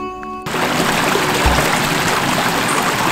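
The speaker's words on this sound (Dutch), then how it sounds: "Zoals je ziet, komt hier allemaal water uit." Seaside water gushing steadily out through a small drainage channel toward the sea behind a dike, a continuous broadband rush that starts abruptly and stays loud and even.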